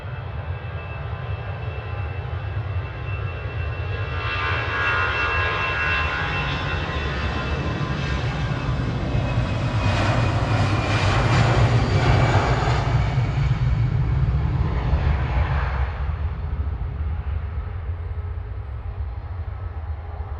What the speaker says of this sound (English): TCSPB with flight 594, 737-800. Lined up and ready to go now on 23 left